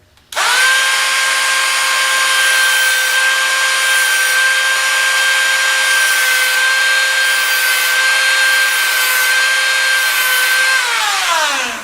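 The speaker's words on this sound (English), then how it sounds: "I use my Dremel tool with a little cutoff saw" A Dremel rotary tool with a small cutoff saw cuts notches in a mandolin fret tang, a loud, steady high-pitched whine that holds for about ten seconds before spinning down.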